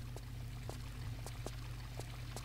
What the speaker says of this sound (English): Oh, there's water